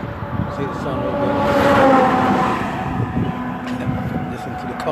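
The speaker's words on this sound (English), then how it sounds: "Listen to the cars passing me by" Traffic passing along a highway beside someone walking outdoors, a broad roar that swells to a peak around the middle and then eases back, steady wind-like rumble throughout with no clear talk.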